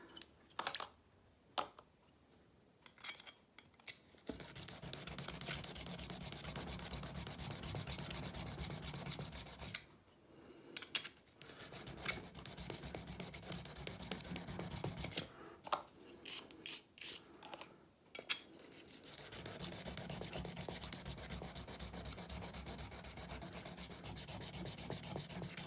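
A sharpening stone rubs against the frame rails of a 1911 Government Model pistol to fit a .22LR conversion slide, in long, steady strokes that stop briefly several times, close and moderately loud.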